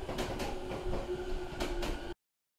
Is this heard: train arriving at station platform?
yes